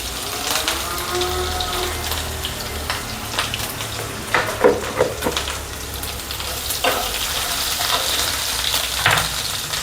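Ginger-garlic paste and cumin sizzle in hot oil for soya vegetable fried rice, a steady loud crackling hiss with occasional stirring clinks and scrapes of the pan, with no talking.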